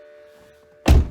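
A BMW E60 530i car door shuts with a single solid, heavy thunk after a quiet stretch of faint background hum.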